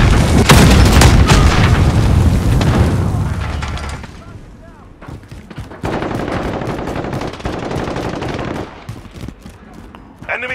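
Explosives detonating during a Domination match in Call of Duty Modern Warfare: loud, sustained booming blasts mixed with rapid machine-gun fire, fading briefly before another burst of gunfire and rumbling, with in-game voice callouts underneath.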